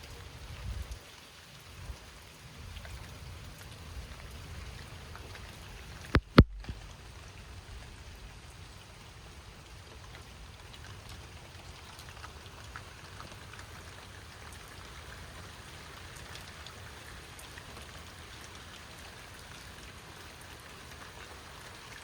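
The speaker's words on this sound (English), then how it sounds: "good while of hard rain" Hard rain falls at a lake during a mild thunderstorm, a soft continuous patter with a sharp crack near the six-second mark, steady and fairly faint with no voices.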